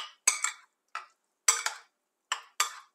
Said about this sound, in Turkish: Şimdi yoğurdumla güzelce karnabaharlarımı karıştırıyorum.